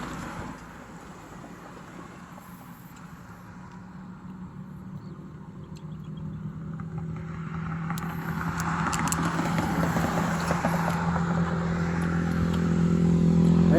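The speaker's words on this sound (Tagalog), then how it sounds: "patuloy yung rush hour, patuloy ng takbo ng mga sasakyan" Rush hour traffic streams past steadily, a continuous rumble of cars and motorcycles that grows gradually louder and closer toward the end, with occasional clatter and no talking.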